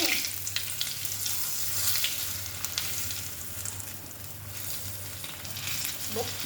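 An omelette fries in oil in the cup-shaped hollows of a paniyaram pan, giving a steady close sizzle and crackle throughout, with a low musical hum underneath.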